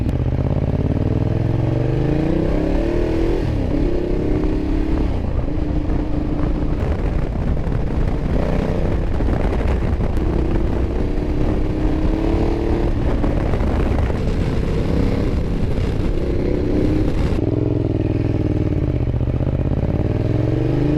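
A Ducati Diavel motorcycle rides along in urban mode, its loud exhaust a steady, rumbling drone that rises and falls with throttle changes throughout, mixed with wind buffeting the microphone.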